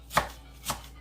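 A knife rough-chopping food on a board, two crisp, separate thuds about half a second apart, close and clear with no voices.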